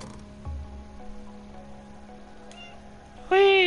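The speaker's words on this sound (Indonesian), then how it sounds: "Kalau puzzle-nya ke crack harus meow 5 kali" Cat meowing in the video game Stray, a single clear, loud meow near the end after a quiet stretch of faint game ambience.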